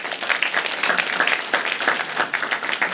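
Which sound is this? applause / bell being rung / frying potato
applause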